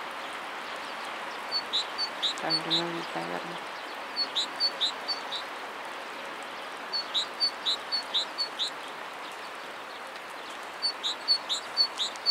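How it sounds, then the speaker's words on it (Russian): Outdoors, a small bird that may be a tit sings bright, high chirps in short repeated bursts, moderately near. Someone speaks briefly under the song. "Подожди, это синичка что ли поет?"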